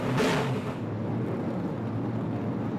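A finely tuned stock car racing engine roars steadily, loud and close, with a brief rising whoosh near the start before settling into a continuous drone.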